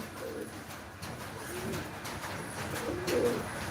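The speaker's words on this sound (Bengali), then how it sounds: "এখানে আমার সব ধরনের কবুতরই আছে" Pigeons of several kinds coo in a loft, with soft, repeated low cooing calls from a few birds overlapping at close range over faint background noise.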